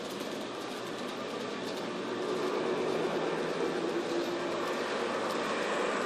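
Model train running on an indoor track that weaves through the legs of a dining room table and chairs, giving a steady continuous rolling rumble and whir that swells slightly halfway through, no voices.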